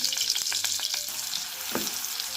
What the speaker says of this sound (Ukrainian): Смажитимо овочі на олії та на вершковому маслі.